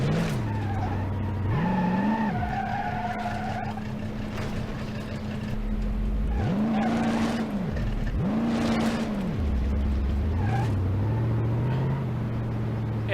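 Wagon in BeamNG.drive straining its transmission, engine revs repeatedly surging and dropping in loud whining bursts with tire noise, no voices over it.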